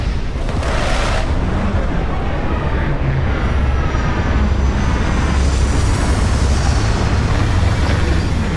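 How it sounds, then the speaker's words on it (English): Spaceship retro thrusters firing during a landing in a video game, a loud, sustained roaring rumble with a deep low-end boom that holds steady throughout. "Landing struts primed. Retros firing."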